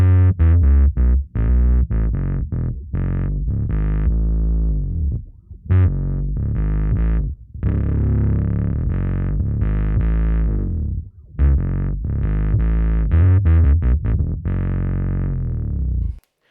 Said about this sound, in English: Overdrive, distortion, fuzz will be perfect.